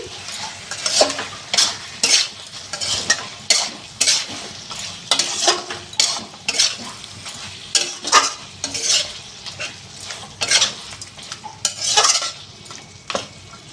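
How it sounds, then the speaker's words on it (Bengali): Chicken kosha in tomato sauce being stirred in a pan, giving a steady run of scraping, clattering spoon strokes over a soft sizzle, close and fairly loud, with no talking. "সস দিয়ে একটু নেড়ে চেড়ে, এটা আমি টমেটো সস দিয়েছি।"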